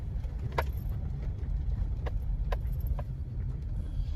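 A truck rolls past on a road at a spooky roadside spot at night, a steady low rumble holding throughout with a few brief clicks and rattles over it.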